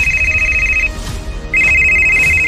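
A telephone rings twice in steady electronic trills, loud and close, with a short quiet gap between the two rings.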